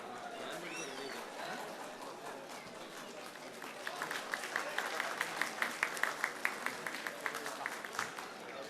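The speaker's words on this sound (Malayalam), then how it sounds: "നല്ലൊരു കയ്യടി നൽകാം അദ്ദേഹത്തിനായിട്ട്." An audience applauds an award recipient at an inauguration function in Sharjah, with scattered clapping that builds into a brisk, rhythmic patter of distinct hand claps, while voices chatter underneath.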